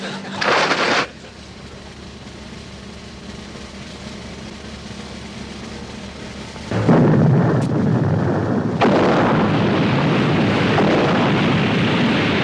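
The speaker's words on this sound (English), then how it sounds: "Fire depth charges!" Depth charges fired from a naval vessel in a wartime comedy scene: a loud burst opens, then a steady roar, and a second heavy blast rumbles in and holds as a long, loud booming wash.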